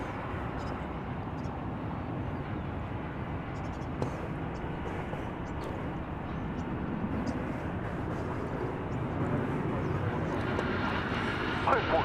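A jet airliner roars on a runway at DFW Airport as a broad, steady rumble that builds slightly near the end, with someone talking over it.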